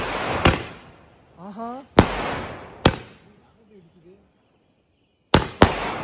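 Diwali firecrackers burst in a set of sharp, loud cracks, several spaced apart and then two quick ones near the end, with a person's voice exclaiming between the bangs.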